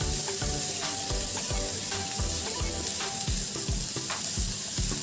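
Grated cabbage snack batter sautés in a hot pan, a dense steady sizzle broken by regular scraping stirs of a spatula, close and loud with no talking.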